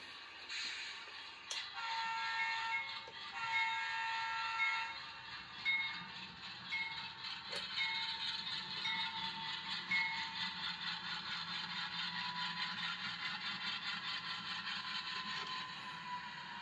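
An Atlas Dash 8-40BW model diesel locomotive with ESU LokSound V5 DCC sound idles and rumbles steadily on a tail track, a continuous engine drone with a few brief horn-like tones, no talk over it.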